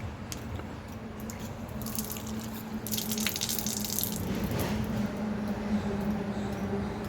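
Water runs from a tap into a container for a home puja, a steady close splashing stream with light drips and gurgles, no voices.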